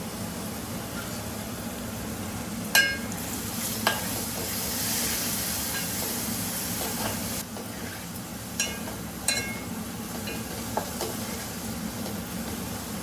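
Onions fry in a pan with turmeric, giving a steady close sizzle with occasional stirring clinks and scrapes throughout.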